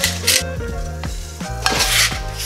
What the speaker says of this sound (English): Chopping it up, chopping it up, chopping it up.